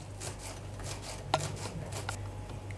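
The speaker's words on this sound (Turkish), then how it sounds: "Bir demet maydanozu yapraklarından ayırıp ince ince kıyıyorum." A knife finely chops a bunch of fresh parsley leaves for mint lemonade, making soft, quiet, rhythmic cutting strokes on a board with one sharper tap midway and a low hum underneath.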